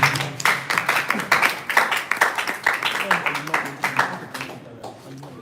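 An audience at a graduation ceremony claps in a dense, sustained round of applause, loud and near, with voices mixed in and the clapping thinning toward the end.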